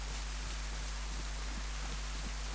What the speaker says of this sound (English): It's fantastic, isn't it, when it's heavy rain like this?